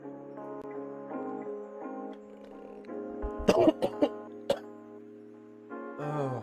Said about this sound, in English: This cough will not go away from COVID.